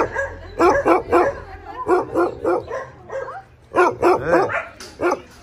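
Several dogs of mixed ages bark and yip repeatedly at an animal shelter in Egypt, loud and close, in bursts with short pauses between.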